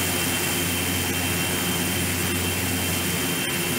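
Steady, loud drone of a Fokker 50 turboprop's engines during flight in X-Plane 11, continuous and unbroken throughout with a faint periodic tick, no voices.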